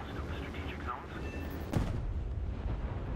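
A bomb from a Sunderland flying boat exploding in War Thunder, a sudden sharp blast midway followed by a low rumbling roar, set against steady engine drone.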